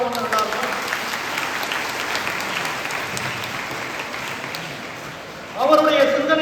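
An audience claps steadily at a birthday celebration for a company chairman, a dense broadband patter held at an even level, with a voice speaking over it near the end.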